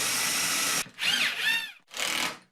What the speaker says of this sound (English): I'll drill it and then put that on top